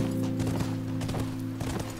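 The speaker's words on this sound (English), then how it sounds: "Calm down, horse. Get away from the other horse." Hooves clip-clop in a quick steady rhythm as a horse moves in The Last of Us video game, close and fairly loud, with no talking.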